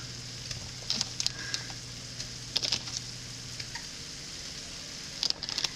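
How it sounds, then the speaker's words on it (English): Gentle, steady sizzling of Velveeta cheese in a frying pan on low heat, with intermittent scraping and clinks of a utensil stirring, and a low hum fading partway through. "I'm not trying to sizzle the crap out of this."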